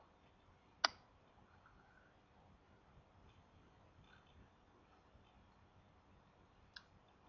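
A single sharp mouse click on an OK button in Salesforce software, faint and close, with another faint click near the end over a quiet room background.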